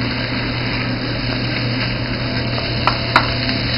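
Ground turkey and onions frying in garlic-infused olive oil, a loud, steady close sizzle with a couple of brief utensil scrapes near the end.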